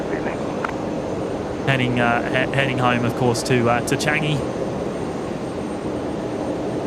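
A jet airliner departs runway 01 right at Brisbane Airport on a full-length takeoff from the Alpha 9 intersection, its steady engine roar rumbling throughout while someone talks over it in the middle.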